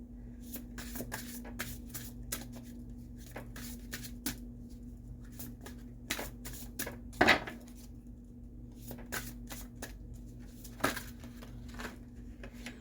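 A deck of oversized tarot-style cards is shuffled by hand, giving soft, repeated papery riffles and taps in an irregular rhythm, close and fairly quiet, with no talking.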